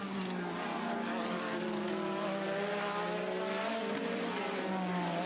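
1980s Formula 1 cars racing at the Detroit Grand Prix produce a sustained high-pitched engine whine that shifts in pitch as the cars overtake, steady and loud with a faint wash of background noise.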